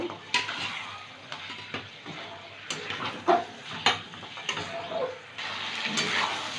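A spoon stirs pieces of young goat meat with potato and garam masala in a hot pan, scraping and clinking against the metal over a soft sizzle, in uneven bursts with no talking.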